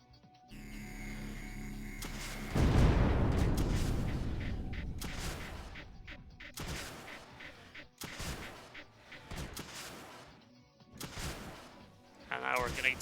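Launchers firing in the video game Creeper World 2, a rumbling boom followed by a string of sharp, separate explosive blasts spaced a second or two apart.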